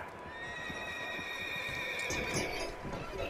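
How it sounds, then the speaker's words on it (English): A horse whinnies shrilly and at length in the video game Red Dead Redemption 2, its high wavering neigh rising and falling over a low rumble of movement. "Horse is freaking out."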